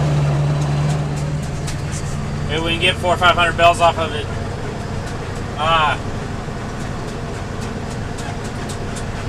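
A farm truck spreading on hayfields drives with a steady, low engine drone that runs the whole way through, while a person talks over it.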